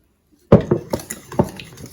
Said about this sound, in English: Just mix it up until it's nice and smooth